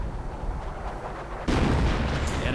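In a video game battle, an explosion destroys an anti-tank gun and its crew: a sudden heavy blast erupts after a stretch of rumbling combat noise, then a loud, sustained roar of fire and debris.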